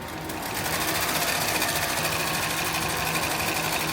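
A sewing machine runs continuously, stitching MOLLE webbing on a tactical plate carrier, with a steady, loud mechanical whir and rapid needle rhythm that holds from start to finish.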